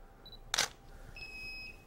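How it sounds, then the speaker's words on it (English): A camera shutter clicks once, crisp and close, firing a Bowens studio flash head through a Pocket Wizard radio receiver; faint electronic whines from flash recharging sit before and after the single sharp snap. "the flash goes off whenever I press the shutter button"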